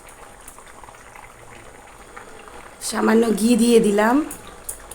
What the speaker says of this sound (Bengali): জল ফুটতে আরম্ভ হয়েছে, এবার আমি কোপ্তাগুলো ছেড়ে দিলাম